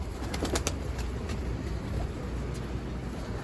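Pigeons move about on a rooftop loft with some faint wing flapping. The sound is quiet and continuous, with broadband outdoor noise underneath and no one speaking.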